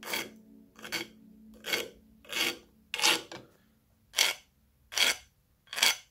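A small pin held in a pin vise has its edge chamfered with a file, eight separate rasping strokes in an even rhythm, close and clear with short silences between them.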